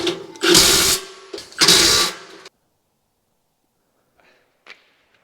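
Bolts on a sawmill bed being tightened with a power tool, two loud close whirring bursts of about a second each, followed by silence and a couple of faint small clicks.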